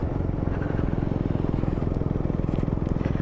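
A motorcycle ridden conservatively at about 20 to 25 mph, tracked from above by a drone, gives a steady, fairly loud low engine drone with a rapid regular pulse that holds level throughout.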